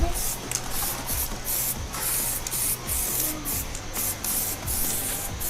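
Close, hissing spray from a 2K spray paint can onto a Yamaha Exciter motorcycle frame in short repeated bursts, continuous and fairly loud throughout.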